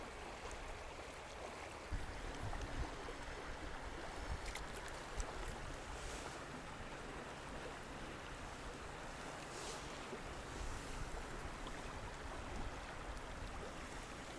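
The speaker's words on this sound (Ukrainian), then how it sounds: "річка шумить" The Prut river rushes steadily outdoors, a broad constant roar of flowing water with wind buffeting the microphone, unbroken and fairly close throughout.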